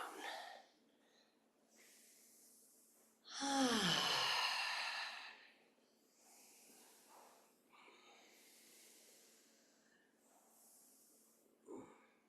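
Slow qigong breathing, a long loud breathy inhale or exhale standing out, with softer airy breaths before and after and a brief sniff near the end, close to the microphone.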